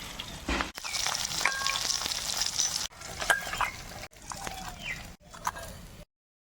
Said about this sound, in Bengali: বাকি মাছগুলো ভাজতে বসিয়ে দেবো